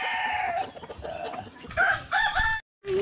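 A fighting rooster crows and clucks at close range, several loud bursts alone with no talk, ending in a short silence before another call starts.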